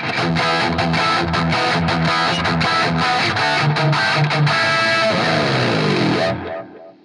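Continuous distorted electric guitar riffing in a Van Halen-style brown sound with echo and ambience added, loud and sustained, ending with a sliding note that fades into a reverberant tail.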